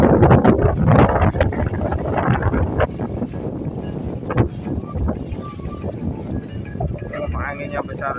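Strong wind buffets the microphone at a bridge construction site, a loud steady roar with gusts running throughout, with a voice speaking under it.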